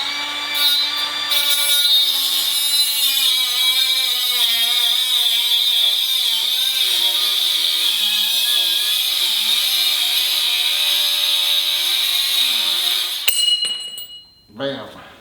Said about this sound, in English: Now that I have the metal cutoff wheel in there, I have some steel that I'm gonna cut and the sparks are gonna fly.